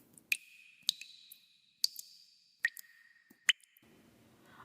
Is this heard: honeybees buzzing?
no